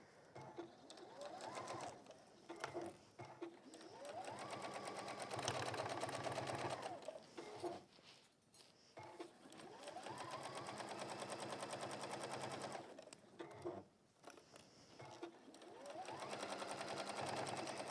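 A sewing machine stitches along a seam on a fabric bag, running in several sustained rattling bursts of a few seconds each, separated by short pauses, close but fairly quiet.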